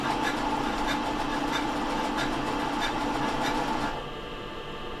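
A sewing machine zigzag-stitches elastic in a fast, even mechanical rattle that runs steadily for about four seconds, then stops and leaves a quieter hum.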